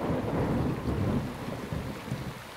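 Steady heavy rain with low rolling thunder rumbles in the video game Max: The Curse of Brotherhood, a dense continuous wash of sound that swells slightly at the start and holds without any voices.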